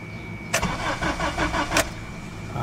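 A 2007 Honda CR-V with a blown head gasket being cranked over, the starter whirring in a rapid rhythmic churn for about a second before cutting off, under a faint steady whine.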